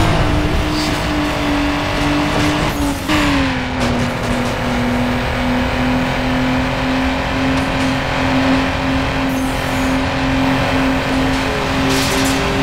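A GT race car engine in Need for Speed Underground 2 drones at high revs without a break, with a brief pitch dip as it shifts and then carries on accelerating.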